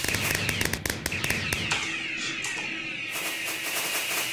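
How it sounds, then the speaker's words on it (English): Rapid crackling bursts of fireworks pop and bang densely at first, followed by a hissing, whistling rush and scattered distant cracks, at a convention keynote. "Do not count the firework."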